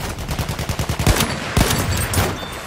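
Gunfire in the WWI shooter Battlefield 1, a fast rhythmic burst of automatic shots followed by a few louder, heavier single reports, close and dense amid battle noise.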